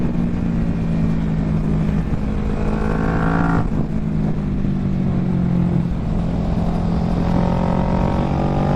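A Kawasaki Ninja 650 motorcycle ridden at pace, its engine droning steadily under heavy wind rush, with pitch rising and falling through gear changes over the whole stretch.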